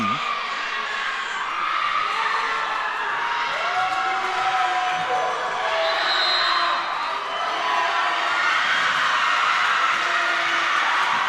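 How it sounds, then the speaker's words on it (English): Crowd cheering and shouting at a varsity high school volleyball match in a gym, a steady loud roar of voices with whoops rising and falling throughout. "big cheer from the crowd"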